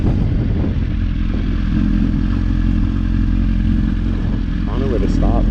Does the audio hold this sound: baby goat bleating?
no